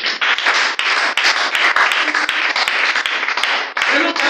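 A church congregation at a missionary church service applauds and cheers in praise, with dense, sustained clapping and voices raised together throughout, loud and close.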